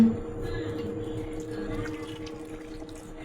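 Water poured into a frying pan, a low steady gurgling wash of liquid that runs close and continuous for a few seconds, with no voices.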